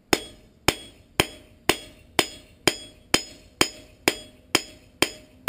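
A hammer forging metal on an anvil, turning the stock to flatten each side: a steady, evenly spaced series of about eleven bright, ringing strikes, each decaying quickly, close and loud with no talk.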